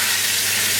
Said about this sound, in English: And we're going to put this in and start frying it.